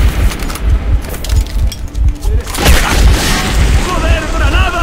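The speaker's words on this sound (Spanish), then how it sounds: "¡Joder, granada!" A grenade blast in the underground shooter Metro 2033 lands as a deep, rumbling boom amid ongoing combat noise, followed by a rising burst of debris-like crackle and ringing; a voice talks over the action.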